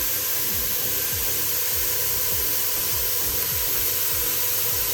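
Chopped ham and white onion sizzle in a pan with a little thyme, giving a constant frying hiss broken by regular, low scraping stirs roughly twice a second, with no talking.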